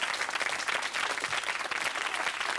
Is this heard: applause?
yes